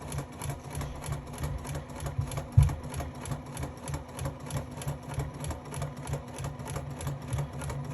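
A sewing machine runs steadily at close range, its needle stitching in a fast, even mechanical rhythm without pause.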